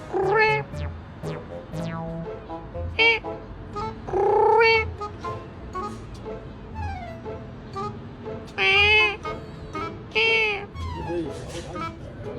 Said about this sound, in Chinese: 还有小猫。